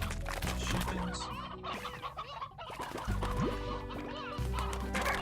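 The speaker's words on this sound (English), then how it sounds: "I'm actually going to take back a few of these chickens." Chickens in the video game Slime Rancher cluck and squawk repeatedly over a layered game soundtrack with steady tonal music beneath, the bird calls coming in busy overlapping bursts.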